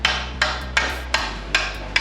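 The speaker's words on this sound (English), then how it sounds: "When in doubt, hit it with a hammer." A hammer bangs on a Mazda MX5 suspension part in a garage, six sharp metallic strikes at a steady, roughly even pace, loud and close with no talking.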